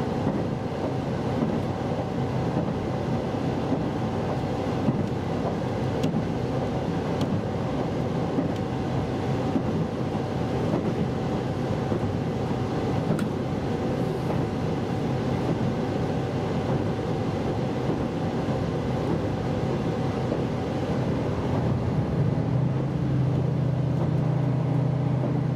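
Steady, continuous rumble of the Limited Express Soya running through northern Hokkaido, heard from inside the train. A constant mid-loud roar of wheels and motion with no talk.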